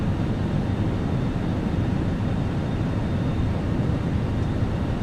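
A Fenix A320 airliner arrives in Microsoft Flight Simulator, a loud, steady broadband engine and airflow roar with a deep low rumble and a faint whine above it.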